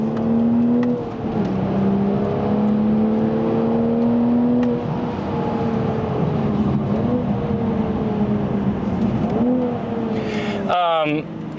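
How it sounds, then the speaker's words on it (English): A 2025 Toyota GR Supra's high-revving engine drones loudly and steadily on a race track, its pitch climbing and then dropping in several distinct steps, as if the gears shift down, with a brief abrupt cutoff near the end. "automatically cycling and downshifting is amazing in this car"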